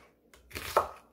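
Knife chopping an onion on a board for a young radish kimchi seasoning paste, a brief burst of crisp cutting noise with one sharper crunch, close and fairly quiet, no talking.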